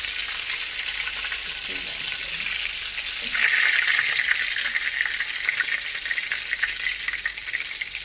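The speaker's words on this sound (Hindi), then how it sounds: "अब इसी तरह से मैं सारे कबाब फ्राई करूंगी।" Beef kebabs fry in a karahi pan with a dense, bright, continuous sizzle that swells louder partway through, close and steady, with no voices over it.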